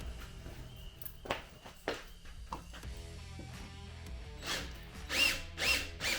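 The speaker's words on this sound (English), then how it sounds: "they are lousy aluminum bolts, so it's going to drill rather easy" A power drill whirs in short bursts with clicks and handling noises, growing louder and grinding toward the end as it bites into an aluminum bolt on a Jeep Wrangler JK fuel neck.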